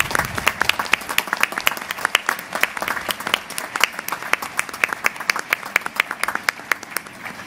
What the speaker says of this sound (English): Please join me in giving them a big round of applause.